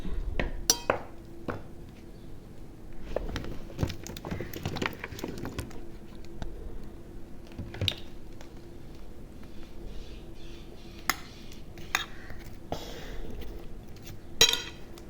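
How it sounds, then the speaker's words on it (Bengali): Vegetables being added to a spice mix for chicken in a kitchen, with soft scattered clinks and taps of utensils against a bowl or pan, faint and intermittent with no talking. "এখন এই মশলার ভিতরে সবজিটা দিয়ে দেব।"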